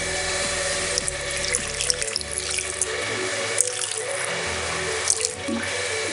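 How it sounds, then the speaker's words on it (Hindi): Water runs steadily into a pan for white sauce pasta, a continuous close splashing stream with faint drips and a low hum underneath. "पानी भी थोड़ा और डालेंगे।"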